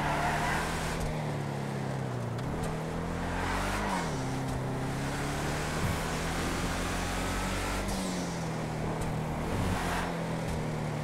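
Supercharged Vapid Dominator GTT, a 1969 Ford Mustang Boss 302 lookalike, lapping the Nordschleife in a racing game: a loud, steady engine drone rising and dipping with throttle and gear changes, with supercharger whine throughout and no talking.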